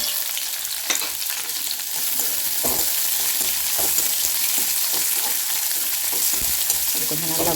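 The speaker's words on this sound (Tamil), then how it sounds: "இப்போ நம்மளோட வெங்காயம் நல்லா வதங்கிடுச்சு" Chopped onions and green chilies sauté in a hot pan, giving a steady loud sizzle close up with intermittent scraping stir strokes throughout.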